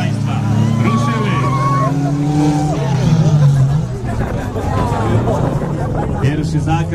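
Wreck race cars rev and roar off the start at a dirt track event in Gorczenica, engines loud and close under crowd babble and an announcer talking.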